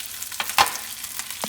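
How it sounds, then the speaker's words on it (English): Rice balls sizzle in a generously oiled frying pan over medium-high heat, a soft, close crackle with a few sharper pops scattered through the short stretch. "Listen to that sizzle in."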